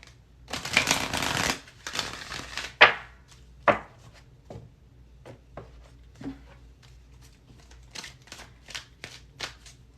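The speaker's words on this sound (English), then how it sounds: "Spirit wants me to give this another shuffle" Tarot cards being shuffled by hand, a dense riffling burst early on followed by scattered soft taps, slides and shuffles of the deck, close and quiet with no talk.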